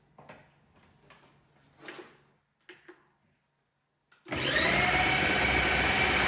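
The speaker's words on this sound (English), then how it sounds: "So we're gonna use the grinder to grind it all together." A Ninja blender starts up and grinds vegetables for empanada filling, a loud steady whir that begins abruptly after a few quiet clicks and taps and keeps running to the end.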